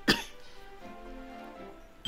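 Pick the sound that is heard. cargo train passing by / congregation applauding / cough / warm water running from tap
cough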